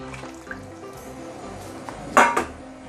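Water runs into a metal pot for blanching pork in a home kitchen, a soft trickle with light clinks of cookware and a brief louder splash near the end.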